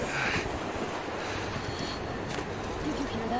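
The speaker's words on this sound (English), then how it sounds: "It's windy here." Steady wind gusts roar in a snowy outdoor scene in the Metro Exodus video game, a broad continuous rush with no clear voices in it.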